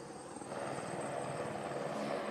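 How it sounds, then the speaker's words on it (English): A helicopter whirs overhead above a triathlon swim start, a steady rotor drone that grows slightly louder after the first half second and then holds, fairly faint and with no voices. "you can hear the helicopter whirring above my head"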